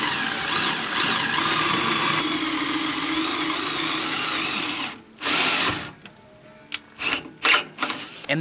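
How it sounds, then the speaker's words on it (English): Power drill driving a quarter-inch bit through the pinch weld of a Sprinter van, a steady high whine for several seconds, then several short separate bursts as the remaining holes are started. "Now I need a quarter inch drill bit, 3 holes through the pinch weld"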